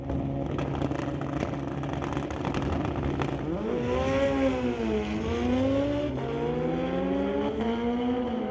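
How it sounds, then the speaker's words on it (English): Pair of Kawasaki motorcycles drag racing at Mission Raceway Park's street legal night, engines roaring off the line and screaming up through the gears as they pull away down the strip, loud and sustained. "Pair of Kawasaki's ready to go at it."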